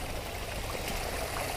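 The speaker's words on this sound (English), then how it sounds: "Not too much water coming down" A small flow of water trickles down a rocky mountain gully on Binevenagh in the Sperrin Mountains, a close, steady, continuous rush and babble with no voices.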